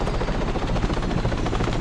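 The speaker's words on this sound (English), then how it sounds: "underneath the chopper, hanging on the damn wheels" Steady, loud rotor and engine roar of a military helicopter in the Arma 3 video game, filling the whole stretch with a continuous broadband drone and faint rhythmic blade thumping, with no talk over it.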